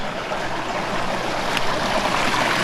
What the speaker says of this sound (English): Now we're getting almost all the flow of this river into that 6 inch pipe.